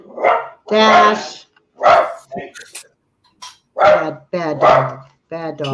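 A dog barks loudly and close by in a kitchen during a home baking session, giving a run of sharp, separate barks and yips with short gaps between them.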